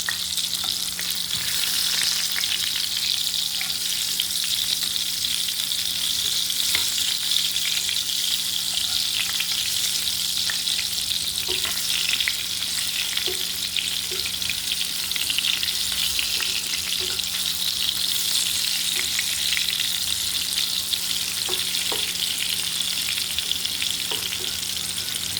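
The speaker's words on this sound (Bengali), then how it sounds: "বেগুনগুলো এখন আমি উঠিয়ে নিব। এপিট ওপিট সুন্দর করে ভেজে নিব।" Eggplant pieces fry in hot oil, a steady, dense sizzle running unbroken throughout with occasional faint clicks of turning or stirring, close and fairly loud with no talking.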